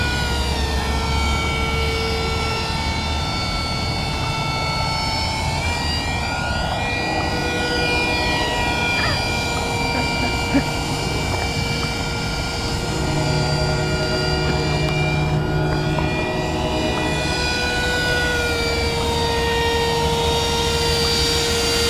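An RC electric ducted-fan F-16 model jet flies with a steady, loud whining motor roar that rises and falls in pitch as it passes, continuous throughout with no talk.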